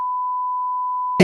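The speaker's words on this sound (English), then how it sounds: "we'll beep this one out" A single steady high-pitched bleep tone holds for over a second, then cuts off into a brief burst of sound.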